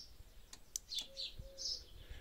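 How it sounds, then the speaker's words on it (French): Birds chirping and twittering at a moderate distance, several short bright calls over a quiet outdoor background with a faint low hum. "les oiseaux qui chantent"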